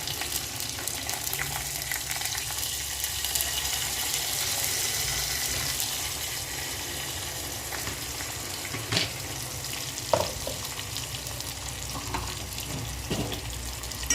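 Dried red chillies and turmeric crackle and sizzle in hot oil for a spinach dal tempering, a steady, moderate hiss, with a few sharp clinks of a utensil scattered throughout.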